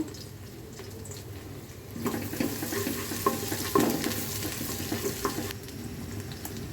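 Mustard oil heats and fries in a pan at the start of cooking bhuna khichuri, giving a soft, close, steady sizzle. Faint crackles and occasional light clinks run over it, and no one talks.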